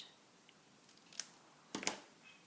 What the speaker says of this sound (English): I might even trim that a little further.